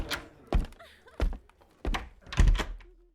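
A door being opened as someone steps through, heard as a run of four heavy wooden thunks spaced about half a second apart, close and fairly loud against a quiet background.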